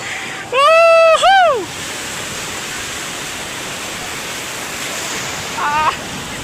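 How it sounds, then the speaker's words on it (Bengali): Sea surf at Cox's Bazar beach rushes in a steady broadband roar throughout, with a voice briefly calling out loudly over it near the start. "ঢেউগুলো অসাধারণ আসতেছে"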